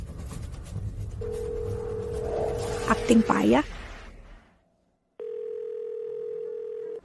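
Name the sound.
phone call that fails to connect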